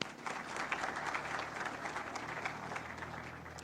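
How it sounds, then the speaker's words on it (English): Guests at the RCMRD 50th anniversary celebration give a round of applause, a fairly faint, steady patter of many hands clapping that continues evenly for several seconds under a low background hum. "a round of applause is in order for all of you."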